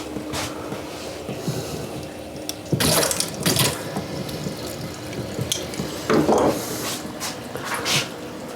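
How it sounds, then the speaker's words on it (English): Cooling water runs steadily through the condenser of a bourbon still, a continuous close rush with louder surges of splashing and flow at a few points. "I do need to turn my cooling water up a little bit."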